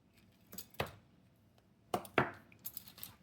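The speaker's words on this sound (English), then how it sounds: "I just cut the small link in between." Small metal chain links are snipped with cutters in quiet surroundings: a few sharp, faint clicks and snaps, one pair near the start and another pair later, followed by light metallic taps.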